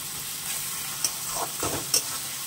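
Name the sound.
frying and stirring tomato masala in a pan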